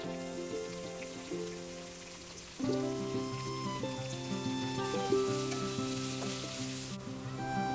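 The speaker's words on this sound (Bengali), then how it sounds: "তার মধ্যে দিয়ে দেব কেটে রাখা আলু" Cut potato pieces frying in hot oil in a pan for a Bengali vegetarian dish, a loud close crackling sizzle that jumps up sharply as they go in, then keeps spitting steadily, with no one talking.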